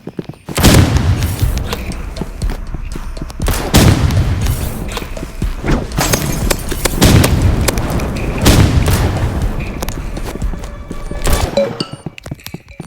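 Rapid bursts of assault rifle fire in the video game Rivals, loud and near, coming in several dense volleys with short gaps, heard alone without talk.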